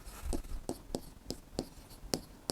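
A pen writing on a grid sheet during a Class 6 maths lesson on mensuration: short, crisp scratching strokes in a steady, uneven rhythm, close and fairly quiet, with no speech over them.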